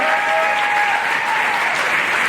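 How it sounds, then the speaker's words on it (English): A crowd at a high school pageant applauds steadily, a dense wash of clapping that holds at an even, loud level from start to finish. "Let's hear a big round of applause for the first couple winner"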